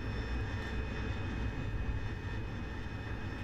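AV-8B Harrier jet engine in the DCS flight simulator game, a steady whining roar with a high tonal whine over a rumbling low end, continuous and even throughout.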